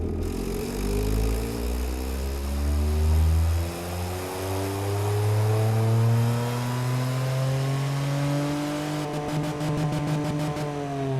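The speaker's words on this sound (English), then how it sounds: "I don't think I've ever heard an inline 3 in this game before." A small inline-three engine in the car-design game Automation revs up steadily, its pitch climbing in long sweeps, then a rapid stuttering buzz near the end; loud and close, no talking.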